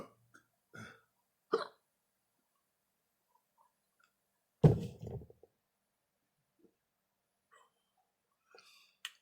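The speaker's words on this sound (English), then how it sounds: "hiccups." After half of a frozen 7 Pot Slimer pepper, someone hiccups a few times: short, sharp throat catches spaced irregularly across near silence, with one stronger jolt midway.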